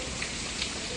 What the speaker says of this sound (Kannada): ಮಳೆ ದಬಾಶ್ ಅದ್ರಿ ಪೂರಾ